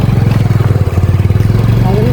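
A Hero Splendor motorcycle engine runs close by at a steady idle, giving a fast, even train of low thumping pulses that hold constant for about two seconds.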